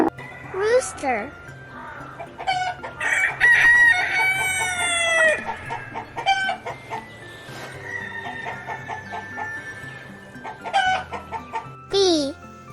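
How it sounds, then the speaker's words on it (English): A rooster crows several times in a row, loud and close, its long rising calls mixed with clucking and other fowl sounds from a farm. "Rooster."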